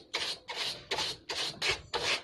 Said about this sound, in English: These bristles must go inside the fins.